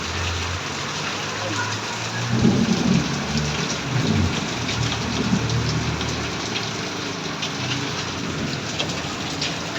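Steady rain falls at dusk in a thunderstorm while rolling thunder rumbles low and heavy in several swells, under a constant hiss of raindrops.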